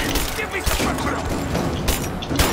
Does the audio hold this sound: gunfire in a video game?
yes